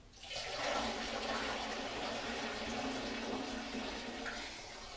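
Water poured into a batch of pear mash for brandy distillation, a steady loud rushing gush that starts almost at once and keeps going with little change, no voices over it.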